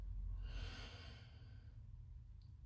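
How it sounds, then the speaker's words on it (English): Slow, deep inhalation through the nose during a calm guided relaxation, a soft airy breath swelling near and then fading over a couple of seconds with quiet stillness after. "So breathing in through the nose"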